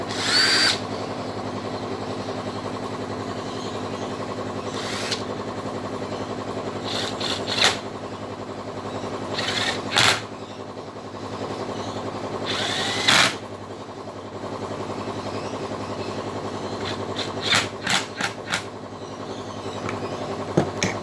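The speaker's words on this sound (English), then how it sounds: "So here's the old rattle gun." Impact wrench used during chainsaw maintenance: short bursts of rattling, hammering power-tool noise at irregular intervals over a steady background hum, close by with no talking.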